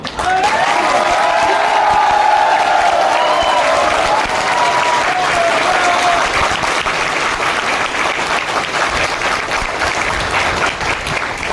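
A large crowd at an AWPL SOS training gathering in Nainital claps loudly and continuously, with a faint cheering tone early on, the applause holding strong before easing slightly toward the end.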